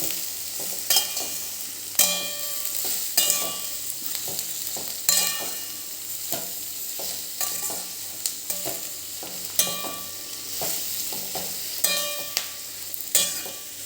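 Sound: sautéing vegetables including capsicum for spring rolls in a pan

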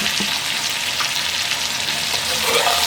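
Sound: vegetables sautéing with salt and turmeric

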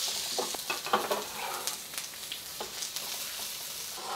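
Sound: ginger and onions frying in oil

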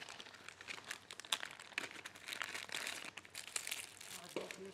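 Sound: crinkling packaging being opened

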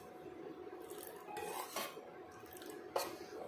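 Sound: stirring ragi porridge in a pan

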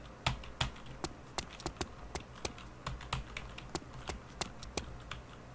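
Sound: typing on a worn computer keyboard with a sticking E key

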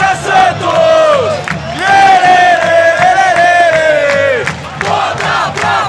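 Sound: football fans chanting and cheering for Santos in the stadium

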